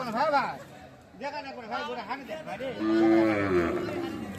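People talk nearby, then a Holstein Friesian dairy cow lets out a low, drawn-out moo for about a second.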